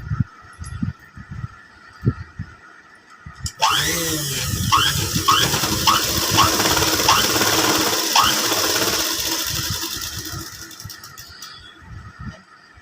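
A sewing machine stitches blouse fabric in a loud, steady mechanical run lasting about seven seconds, its needle ticking rhythmically, framed by quieter clicks and handling before and after.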